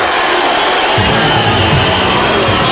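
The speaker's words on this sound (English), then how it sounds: "Listen to the crowd." Basketball arena crowd at a 1996 Bulls versus Nuggets game, a loud, continuous roar of cheering and whooping that swells about a second in, with no clear voice over it.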